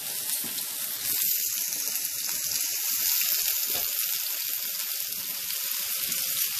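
Onions sizzle loudly in hot oil in a pan, a dense, steady crackling hiss that runs throughout without speech.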